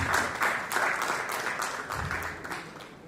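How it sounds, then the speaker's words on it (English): An audience at an international academic conference gives a steady round of applause for a professor. It sounds dense and sustained, with many hands clapping throughout and little talk. "Please give him a round of applause for Dr."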